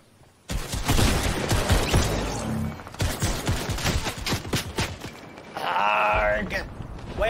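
Fortnite video game gunfire, dense rapid bursts of shots and impacts crowding one after another, loud and close, with a groaning voice cry near the end.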